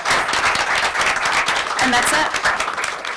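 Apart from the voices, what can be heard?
audience applause for Lauren at student debate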